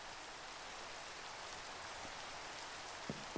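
Rain in the video game Minecraft, a steady, even hiss of falling rain, soft and continuous, with a couple of faint clicks near the end.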